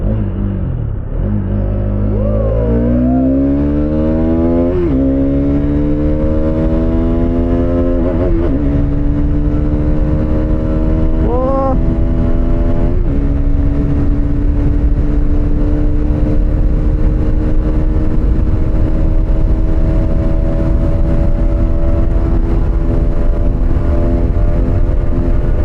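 A Hero Xtreme 250R motorcycle accelerating hard with a rider aboard during a top-speed run: a loud, close engine whine rising in pitch through several gear shifts, then holding a high steady drone under wind noise.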